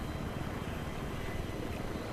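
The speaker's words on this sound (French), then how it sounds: "on est en hélico avec Hero" Helicopter in the video game Call of Duty Black Ops 2, a steady loud rotor and engine drone filling the whole moment without a break, with no talking over it.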